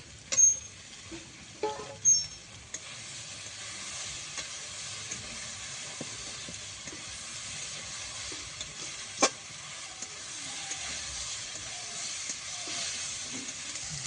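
Steady sizzling of potatoes frying in a pan, with a few scraping stirs near the start and an occasional clink; no talking.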